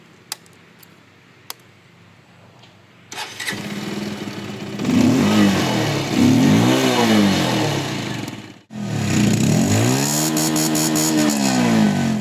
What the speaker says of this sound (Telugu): బండి ఎగ్జాస్ట్ సౌండ్ ఒకసారి వినిపిస్తాను, వినండి.